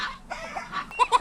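Hens and roosters kept to lay fertilized eggs for vaccine production, clucking in short repeated bursts that grow louder toward the end, close by, with no talk over them.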